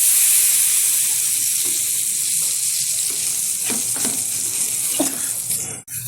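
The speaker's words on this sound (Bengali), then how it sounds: "একটু জল দিয়ে ভালোভাবে কষিয়ে নিচ্ছি।" Turmeric, cumin and chili powder with a splash of water hiss loudly in fish oil, a dense steady sizzle with a few soft spoon scrapes near the end.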